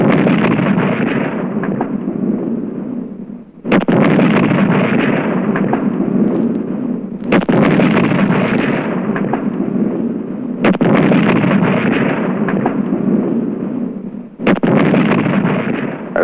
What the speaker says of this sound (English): As the gun salutes and the lonely calls ring out in the waning autumn afternoon